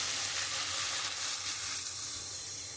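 Pointed gourd (potol) pieces sizzle in hot oil with spices in a pan, giving a steady, close, loud crackling fry with no break.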